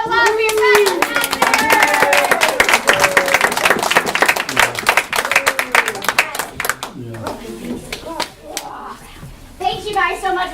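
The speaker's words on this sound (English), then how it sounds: "how about one more big round of applause for your guys?" An audience gives a big round of applause for a group of kids after a show, loud, close clapping mixed with children's voices and chatter, tapering off as the clapping fades toward the end.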